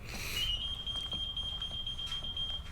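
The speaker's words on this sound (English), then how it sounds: "Your computer is beeping." A computer sounds a sustained electronic tone for an incoming call, a steady high beep holding for a couple of seconds over a low background hum.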